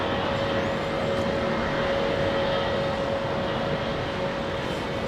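Jet airliners fly overhead near Heathrow with a steady, broad roar that holds level throughout without fading. A faint tonal whine rides on top of the engine rumble.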